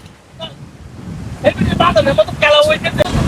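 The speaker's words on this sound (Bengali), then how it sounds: "ভাই প্রচুর পরিমাণে বাতাস এই বাতাসের কারণে আজকে আমরা ড্রোন উড়াতে আমরা ব্যর্থ হয়েছি" Strong wind sweeping across an open haor wetland in Kishorganj, Bangladesh, buffeting the microphone with loud rushing gusts while people talk over it.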